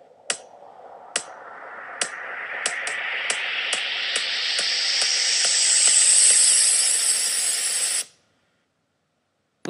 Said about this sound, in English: You'll notice that the white noise is blocking out the kick near the end.